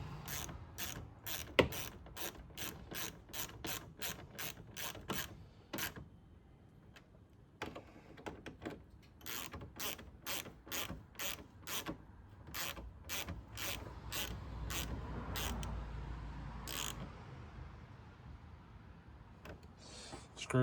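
Rapid ratcheting clicks in repeated bursts as screws are driven back down on a 2010 Kia Forte headlight assembly, close and fairly loud, with short pauses between runs of turning.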